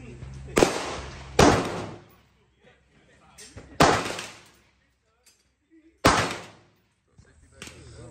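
An XM177E2 clone rifle fires at an outdoor range: sharp, loud, separate reports spaced a second or more apart, each ending in a short echoing decay. Quiet voices come between the shots.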